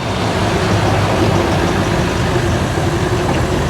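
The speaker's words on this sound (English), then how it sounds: "the sound of that diesel engine" A steady, loud diesel engine drone with low rumble runs throughout as a Humvee drives along, with no voices over it.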